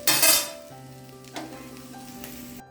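Soybean curry frying in a pan, a loud sizzle at the start settling into a softer steady simmer with a light clink of a utensil.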